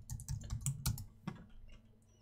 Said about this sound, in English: I'm going to keep typing the address.